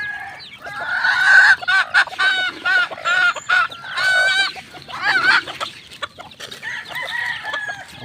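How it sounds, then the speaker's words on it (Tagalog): Farm chickens and chicks in a coop at feeding time, calling in a dense series of repeated clucks and chirps that carry on loud and close for several seconds. "yung ating mga alagang sisiw"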